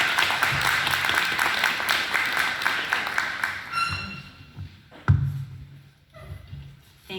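A crowd at a panel presentation on a nuclear exploration project in Ignace claps for a few seconds before the applause thins out, leaving scattered claps, a thud and quiet room noise.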